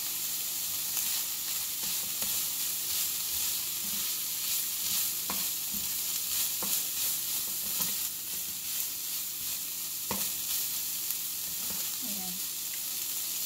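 Beef sisig sautéing in a pan gives a steady, loud sizzle and crackle, with occasional scraping and stirring clicks throughout.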